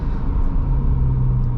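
A car engine rumbling steadily and loudly through an instant downshift, low and continuous, with a near exhaust drone and no voices.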